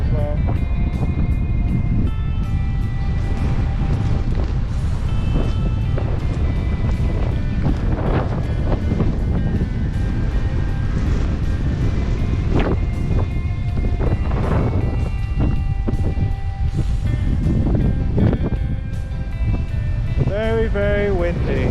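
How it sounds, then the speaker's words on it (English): Strong wind roars over an action camera at Hatchets Pond in the rain, a dense, unbroken buffeting rumble lasting throughout, with occasional faint knocks and a voice now and then underneath. "Very windy today."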